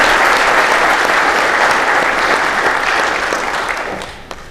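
Audience applause for award recipients at a Border Patrol graduation ceremony, a dense, steady crowd clapping at full strength that starts to thin and fade in the last second.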